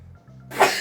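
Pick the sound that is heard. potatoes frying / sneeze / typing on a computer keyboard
sneeze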